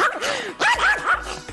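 A dog barks sharply several times at close range, a quick run of loud, yappy barks with brief gaps between them.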